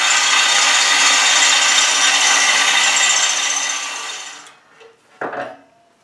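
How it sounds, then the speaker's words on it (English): Tap cutting threads into holes in a metal bracket for a wood lathe pattern tracer, a steady loud grinding rasp that runs for about four seconds, then fades into a couple of brief scrapes and clicks. "I'm going to tap these holes."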